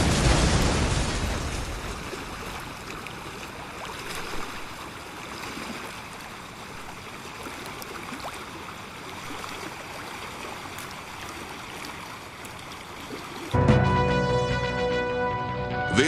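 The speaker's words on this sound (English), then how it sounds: "A deadly explosion has rocked the waterfront." A loud explosion erupts at a waterfront in the game Saints Row, a sharp blast that decays into a long rushing roar like churning water and debris, then cuts to a brighter tonal sound near the end.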